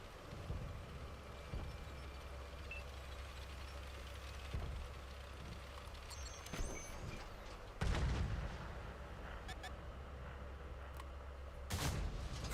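A tank cannon fires in World of Tanks, a heavy, booming blast late in the stretch, with a second loud boom near the end over a low, steady engine rumble and scattered battle noises.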